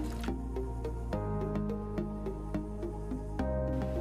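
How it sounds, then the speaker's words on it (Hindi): Chicken marinade with cooking oil and seasoning being mixed by hand gives soft, wet squishing and dripping sounds in a faint, repeated rhythm, close by and alone. "अब मैं इन सब चीज़ों को अच्छी तरह से मिक्स कर लेती हूँ"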